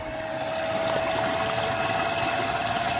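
A micro hydro turbine in a new housing spins up as water flows through it, giving a steady whirring hum with a rushing, pump-like wash of water, continuous and fairly loud.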